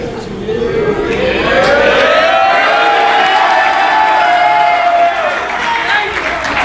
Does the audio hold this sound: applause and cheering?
yes